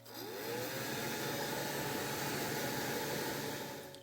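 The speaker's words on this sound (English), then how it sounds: "I've got my hairdryer out." A hair dryer blows steadily at close range while drying distressed paper hang tags, a continuous airy roar with a motor whine that rises as it spins up, lasting about four seconds.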